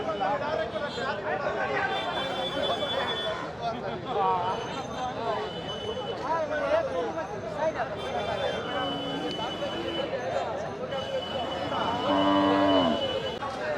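Cattle low repeatedly at a rural weekly cattle market in a char region, several moos near and far rising over a constant crowd chatter of many voices.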